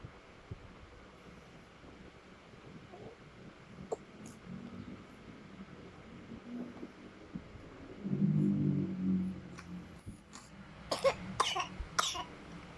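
A few faint coughs and throat-clearing sounds, quiet and close, with a low rustle in the background.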